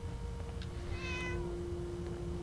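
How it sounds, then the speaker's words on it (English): A cat meows once in Fallout 4, a clear, fairly close call over a steady, quiet in-game background hum. "Meow."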